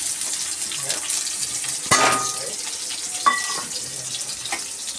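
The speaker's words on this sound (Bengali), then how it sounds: "এবার এই যে পেঁয়াজ কুচিটা দিয়ে দেবো" Chopped onion dropped into hot oil already tempered with white cumin, dried red chilies and green chilies, giving a soft continuous sizzle with stirring scrapes and a couple of sharp clatters from the pan.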